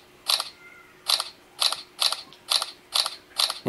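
Samsung S21 smartphone camera firing burst shots, giving seven crisp, evenly spaced shutter clicks about half a second apart, close and clear against a quiet background.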